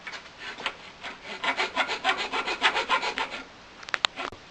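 A hand file rasps a notch into a bushing in quick, even back-and-forth strokes. The scraping is close and moderate in volume, followed by a few sharp metallic clicks at the end.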